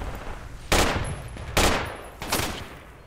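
Three heavy gunshots or explosions from the Project Reality game, each a sharp loud burst with a rolling echo tail, spaced unevenly about a second apart with no talking.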